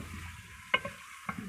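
Whole cinnamon sticks and cardamom pods frying in oil for village-style karahi gosht, a soft steady sizzle with a few sharp stirring clicks.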